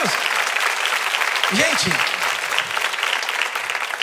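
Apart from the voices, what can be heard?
church congregation applauding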